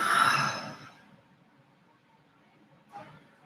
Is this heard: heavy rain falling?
no